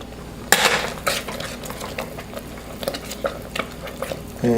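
Jack and cheddar cheese being whisked into a sauce in a pot over a lowered flame, with clinking metal strokes and scraping taps against the pan, loud at first and then settling into intermittent knocks.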